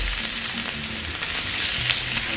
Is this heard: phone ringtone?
no